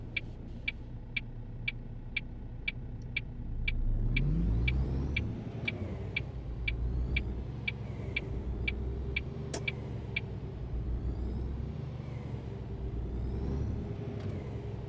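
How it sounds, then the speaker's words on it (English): Truck engine idling and reversing in On The Road Truck Simulator, a low steady rumble with a rhythmic, evenly spaced reversing beep repeating over the first half, the engine surging briefly, then settling. "So reversing in this truck isn't that bad."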